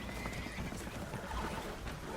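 Spooked horses aboard a leaking boat in the video game Red Dead Redemption 2, a brief burst of neighing and whinnying with hoof clatter over a dense, noisy background.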